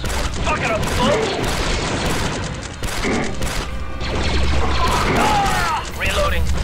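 Blaster fire from battles against heavy battle droids in Star Wars Republic Commando, dense overlapping shots and bursts in a loud, continuous firefight with voices calling out over the din.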